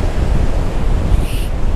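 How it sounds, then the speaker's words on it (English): Strong wind roars against the microphone alongside steady crashing ocean surf on the coast of Koh Samed island, Thailand, a loud continuous wash with no talk. "I hope you can hear me because it's so windy, you can see the waves."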